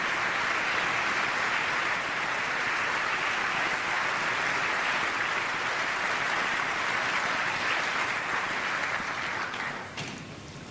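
An audience, Supreme Court justices among them, stands and applauds for Maureen Scalia, widow of Antonin Scalia: a dense, loud, sustained roar of clapping that holds steady for about ten seconds before tapering slightly at the end.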